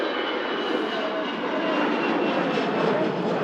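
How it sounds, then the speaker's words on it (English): An EasyJet jet airliner departs Manchester Airport, its engines giving a loud, steady, broadband roar that holds without a break for the whole stretch. "EasyJet heading out to Paris."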